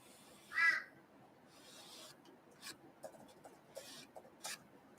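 Crows in an Australian backyard give several harsh caws, one louder call followed by a scattered run of shorter, fainter caws at irregular intervals over a quiet background.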